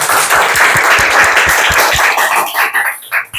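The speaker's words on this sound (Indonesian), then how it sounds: "Kita beri tepuk tangan untuk kelompok." Classroom applause for a student group during a statistics lesson, with dense, steady clapping from many hands that is loud and close, thinning out toward the end.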